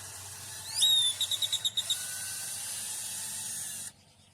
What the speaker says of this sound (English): And that's pre-drilling.